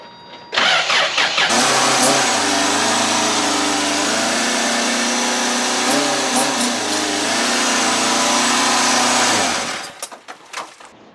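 A car engine starts with a roar and then runs steadily at mid pitch for several seconds as the car drives straight back and forward, rising slightly as it moves, then cuts out, loud and close with no talk.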